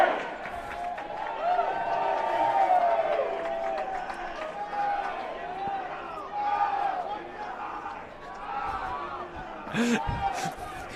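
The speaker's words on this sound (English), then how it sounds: "Crowd getting back into it. That's Another right. Go Bears chant." A rowdy crowd of Cal Bears fans chants in a stadium at a college lacrosse game against Chapman, a loud sustained roar of voices rising and falling, with a few sharp slams near the end.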